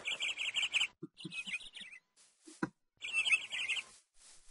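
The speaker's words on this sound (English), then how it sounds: "Hello, birds." Birds chirp in a video game forest: bursts of rapid, high tweeting trills separated by short gaps, with a few lower clicks and soft calls in between, close and clear.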